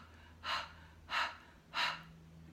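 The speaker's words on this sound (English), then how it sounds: "It's an open mouth breath." Three slow, audible open-mouth breaths taken as a guided breathing exercise, each a soft airy rush spaced about evenly apart, close and fairly quiet with no talking.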